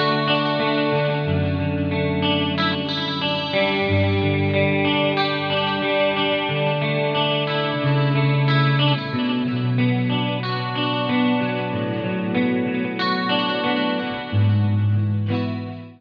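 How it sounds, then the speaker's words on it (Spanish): A tri-stereo chorus with digital delay from an Eventide H9000 effects unit swirls over sustained, layered instrumental chords, a wide, shimmering, continuous wash with lightly distorted edges and no gaps. "vas a escuchar el chorus o el triestéreo chorus con el digital delay"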